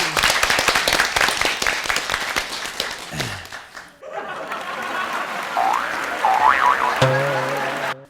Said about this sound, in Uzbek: sizga olqishlarimiz bilan